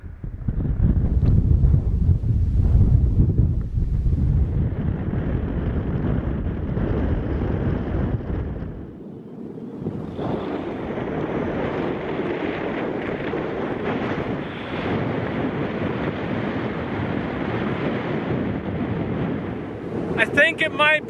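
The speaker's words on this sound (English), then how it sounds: "Back up there are probably like 30 or 40 mile an hour winds." Strong wind, around 30 to 40 miles per hour, roars and buffets across a mountain summit, a heavy, steady rumble of gusts that continues throughout at close range.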